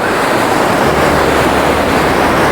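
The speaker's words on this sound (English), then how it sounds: "the closer we get to the river, the louder it gets, and it is fairly churning through" Loud, close river water churning steadily upriver near Launceston, a dense roar with wind buffeting the microphone and no talking.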